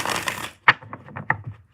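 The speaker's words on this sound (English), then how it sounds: "I gotta do one more shuffle" A deck of tarot cards is riffled in a soft papery burst, then tapped and squared with several light, close knocks.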